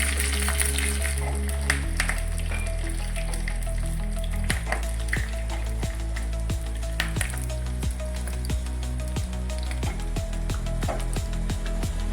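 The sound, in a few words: whole spices tempering in hot sesame oil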